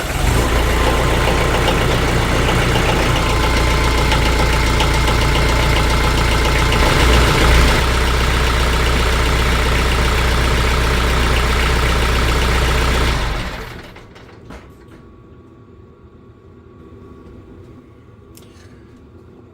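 A loud, steady engine idles with fresh oil circulating, holding a constant rumble for about thirteen seconds before shutting off into faint background quiet.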